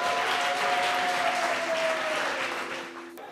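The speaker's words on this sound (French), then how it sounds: "plein d'applaudissements pour elle" A crowd at the TEKKI 48 closing ceremony in Saint-Louis, Senegal, applauds with loud, dense clapping that fades slightly toward the end, with a faint steady tone beneath it.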